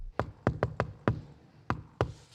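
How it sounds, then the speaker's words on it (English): Seven crisp knocks on a door tap out the Shave and a Haircut rhythm: five quick raps, a pause, then two final knocks. They are fairly soft and near, with no voices. "This iconic door knock is called Shave and a Haircut 2 Bits."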